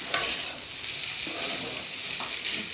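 Okra stir-fry (vendakkai poriyal) sizzling in a pan while a spoon scrapes and stirs it, with a few distinct stirring strokes over a continuous close frying hiss and no talking.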